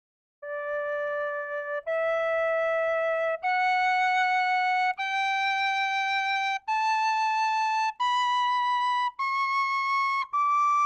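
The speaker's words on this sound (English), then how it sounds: "I'll give you a quick run through of the tuning of the quiet D whistle." A soft, breathy Carbony quiet high D tin whistle plays a slow rising scale, eight long sustained notes, each held about a second and a half with brief gaps.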